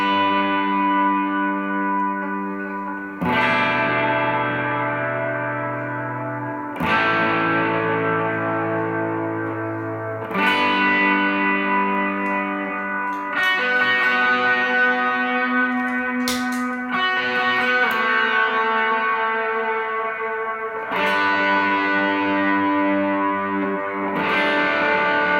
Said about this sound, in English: I think that's like a quarter note and a dotted eighth delay together.